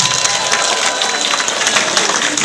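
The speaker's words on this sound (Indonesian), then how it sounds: "tepuk tangan untuk kita semua" A campaign meeting crowd at Hotel Kanaya in Medan breaks into loud, dense applause with cheering mixed in, a close and sustained roar of clapping.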